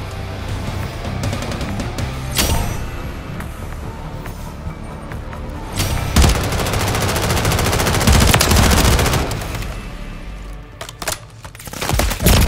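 Automatic weapons rattle in Call of Duty: Modern Warfare III multiplayer, loud rapid bursts of gunfire layered with sharp single shots and heavier blasts, dense and close across the whole stretch with brief lulls between volleys.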